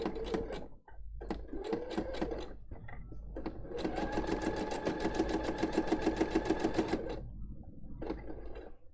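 Sewing machine stitching a fabric seam over pins, with short bursts of mechanical whirring followed by a long, steady run of rapid rhythmic needle clatter, close and clear, then a brief final burst.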